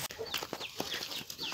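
Free-range backyard hens cluck repeatedly in short, close bursts on a farm, with a few higher squawks mixed in and no talking.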